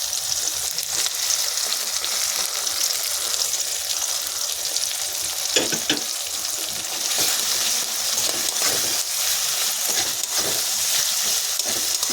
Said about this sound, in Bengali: ভালো করে নাড়াচাড়া করে নেব মশলাটা ভালো করে কষিয়ে নেবো